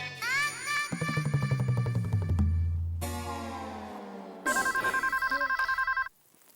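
An old-style telephone bell rings in loud repeated bursts, with a bright electronic ringtone warbling between them, close up and with no talk over it.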